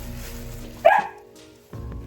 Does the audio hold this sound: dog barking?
yes